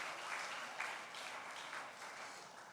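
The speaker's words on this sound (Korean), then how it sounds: "수고하셨다고 우리 박수로 박수하도록 하겠습니다" A church congregation claps together in steady, sustained applause after a retreat, a dense even patter that stays fairly soft and continuous throughout without voices.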